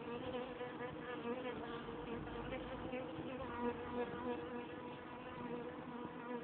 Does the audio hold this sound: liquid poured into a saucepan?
no